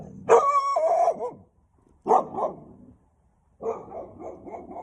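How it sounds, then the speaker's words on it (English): A stray dog barks and howls in three separate bursts with short pauses between them, close and fairly loud. "A stray dog running around."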